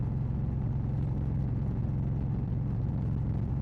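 A motorcycle rides along a road on an early-morning ride, giving a steady, continuous low engine drone and rumble that holds at an even level throughout, with no speech.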